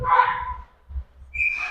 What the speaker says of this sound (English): they're going to blow the whistle for icing.